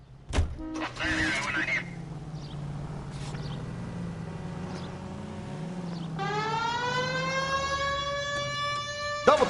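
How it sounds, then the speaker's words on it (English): Police car siren in the video game L.A. Noire, wailing under a running engine and a door thunk, then rising into a loud, steady tone near the end. "We have a siren."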